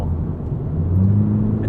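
A 2021 Cadillac CT4 V-Series AWD heard from inside while driving, a steady low engine rumble and road drone that rises slightly in pitch, loud and continuous with no talking.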